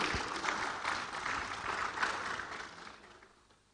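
An audience at a conference applauds a speaker being welcomed on stage, with a soft, fairly distant patter of many hands that continues steadily and then fades out toward the end.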